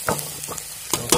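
Taro pieces dropped into frying onions in a pan, with a soft sizzle under several sharp scraping stirs and clatters close by.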